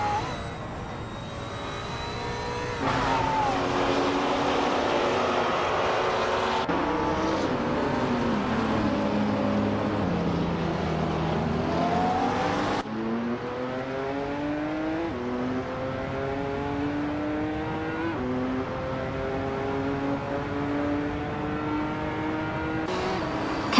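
Race car engines roar and rev in a video game race, cars overtaking one another with rising and falling engine pitch and sharp gear changes, loud and continuous throughout, with no talking.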